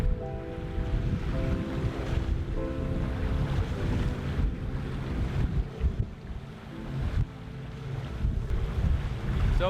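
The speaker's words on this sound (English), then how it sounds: "So we're motoring, and it's probably going to stay like that for the whole day" A sailboat motoring on a calm sea with no wind near Canna and the Isle of Skye, a steady low engine drone and rushing water and wind noise throughout.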